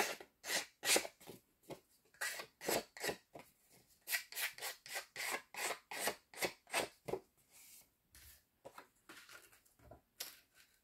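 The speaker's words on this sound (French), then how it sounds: "avec une lime à ongles, j'enlève tout ce qui est au bord, là" A nail file rasps along the edges of scrapbooking paper, trimming a folio with pockets in a series of quick, close, scratchy strokes with short pauses between bursts.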